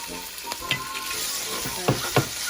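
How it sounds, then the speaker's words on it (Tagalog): Pork fat stir fried in a pan for a pork and taro dish gives a steady, close sizzle, broken by a few sharp knocks and scrapes of the spatula as it is stirred. "I need to stir fry the pork meat, like the fat."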